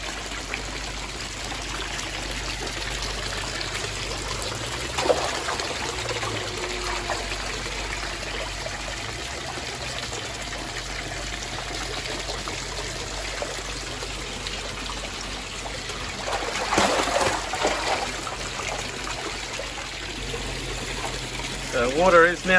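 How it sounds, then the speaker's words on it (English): Water trickling and flowing back into an aquaponics fish pond, a steady soft stream running throughout with occasional louder splashes, and someone talking at points. "The water is now flowing back into here."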